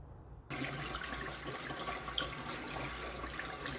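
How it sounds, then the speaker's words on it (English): Water runs steadily over a cast net being rinsed, a broad continuous splashing stream that starts abruptly and holds at even loudness with no talking. "I'm going to rinse off my cast net"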